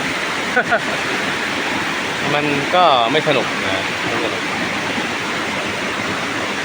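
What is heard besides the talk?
water flowing over rocks at a forest waterfall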